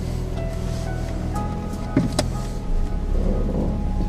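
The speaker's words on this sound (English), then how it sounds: "got the vehicle started and running. We're gonna let it idle" A certified pre-owned Volkswagen car idles in a tight spot. There is a steady, low mechanical hum with constant broadband noise, and a couple of brief clunks near the middle.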